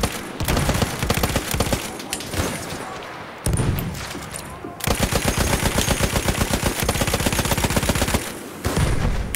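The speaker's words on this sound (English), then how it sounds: "I'm getting shot at by every person on this map." Relentless Battlefield 1 multiplayer gunfire, dense bursts of rapid machine-gun fire with scattered shots, loud and continuous across the whole stretch with only brief dips between volleys.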